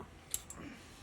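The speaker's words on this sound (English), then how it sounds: "Yeah, definitely just clicked on." A wrench ratchets with a few quick clicks while a 5mm Allen key holds a BC Racing coilover strut nut on a B7 Audi A4; two short sharp ticks stand out close up over a quiet background.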